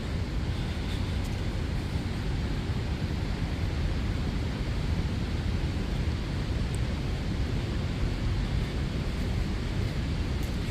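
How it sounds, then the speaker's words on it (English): The big waterfall at Ohiopyle State Park in Pennsylvania roars steadily, a dense, unbroken rush of falling water that stays loud and even throughout. "I'll show you the big waterfall over here"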